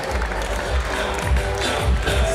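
A squash tournament crowd at the CCI International final cheers and applauds, a steady wash of clapping and voices with a few bursts, close and loud.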